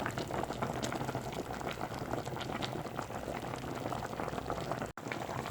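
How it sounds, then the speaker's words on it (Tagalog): A pot of tilapia stew with coconut milk boils vigorously close up, with constant bubbling and popping that continues without pause. "Kumukulo na yung ating paksiw with gata."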